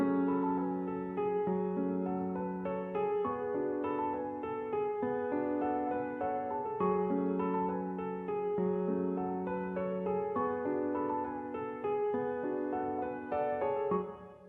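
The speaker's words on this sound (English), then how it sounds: "I started with this piano." A sampled piano melody in a hard rap style plays as a looping chordal phrase, steady and clear, with repeated note patterns and no voices.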